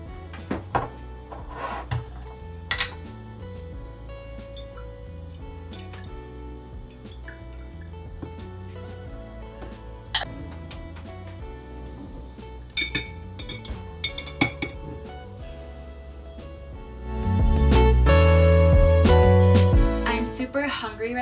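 Glassware clinks against a counter as lemon water is poured, a few sharp taps and clinks early on, then a louder sustained pouring rush near the end.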